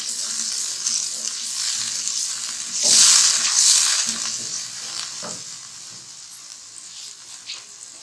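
A spoon works through malai chicken gravy in a pan for several seconds, a close, steady sizzle with wet stirring scrapes and occasional clinks against the pan.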